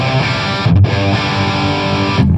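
A distorted guitar amplifier is picked up by a Shure 57 and a TLM condenser microphone blended together, playing sustained chords with a short break and a re-attack, loud and close throughout.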